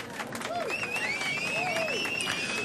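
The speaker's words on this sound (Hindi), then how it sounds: "तालियां बजने लगी" An audience claps after a performance, a steady wash of applause with crowd noise, and voices and whistle-like tones ride over the top.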